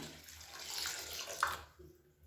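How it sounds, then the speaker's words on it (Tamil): Water poured over soaked pearl millet being rinsed for dosa batter, a steady splashing gush that runs strongly for about a second and a half and then quickly trails off, with no talking. "இப்போ வந்து தண்ணி ஊற்றிக்கலாம்."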